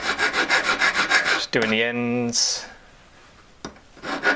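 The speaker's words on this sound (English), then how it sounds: "then I run the file across it that way, make sure it's all going nice and straight" Rhythmic back-and-forth rasping of a hand file across a metal ring, close and steady, broken by a short spoken word and a pause before the filing strokes start again.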